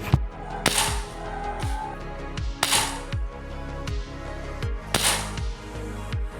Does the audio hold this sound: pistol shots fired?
yes